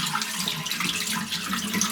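Salmon roe from Kalgin Island, Alaska is rinsed in salty water, making a continuous close splashing and running-water wash with no pauses.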